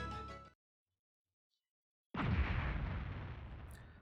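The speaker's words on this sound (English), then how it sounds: "The sound of an explosion came from the direction of the village entrance." A single loud explosion bursts near a village entrance in the game Suikogaiden, hitting suddenly after a stretch of silence with a heavy low boom that decays into a long rumbling roar.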